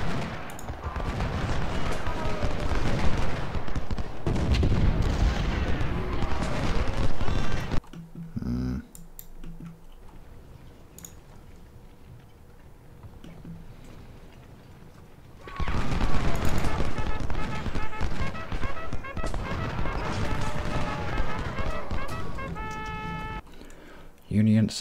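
Gunfire and artillery volleys in the Ultimate General: Civil War strategy game at the Battle of Brandy Station, dense crackling fusillades in two long loud bursts with a quieter lull between, under talk.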